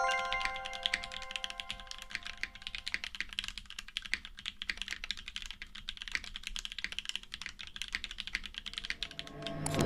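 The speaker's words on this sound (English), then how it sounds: "Clacky top mount goodness with resonance you would expect in a board that takes so much inspiration from Korean customs" A custom top-mount mechanical keyboard with OP Black switches is typed on in a rapid, steady stream of crisp, clacky keystrokes, close and alone, with a brief rattling flurry at the end.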